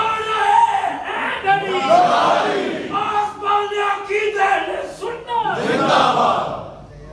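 Large religious gathering chanting a slogan in unison, loud rhythmic massed voices rising in waves and answering a leader's call.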